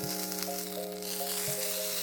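A salmon burger fries on low heat in a pan, giving a soft, steady sizzle close by with a faint underlying hum and no voices.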